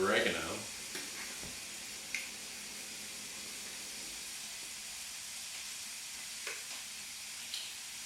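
Chopped onions and poblano peppers hit a hot pot with a sharp initial sizzle that settles into a soft steady hiss, a few light clatters on top, while a person talks.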